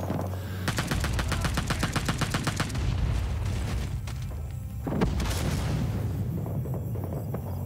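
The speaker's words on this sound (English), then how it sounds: "Grenade!" A grenade blast and bursts of gunfire in the Vietnam War shooter Rising Storm 2: rapid automatic fire rattles for the first few seconds, then a deep boom lands near the five-second mark, with continued shooting around it.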